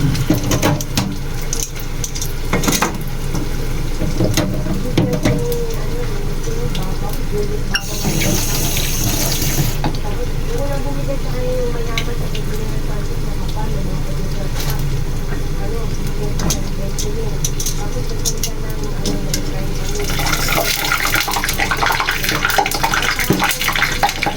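Water pours steadily from a tap throughout, a continuous splashing flow into a basin, while a voice talks over it.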